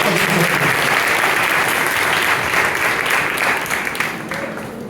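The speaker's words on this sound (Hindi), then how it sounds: "खुदा यीशु मसीह के लिए जोरदार तालियां बजाइए" A crowd applauds loudly for Jesus Christ at a church seminar, a dense, sustained wash of clapping that runs steadily for the whole stretch and eases slightly near the end.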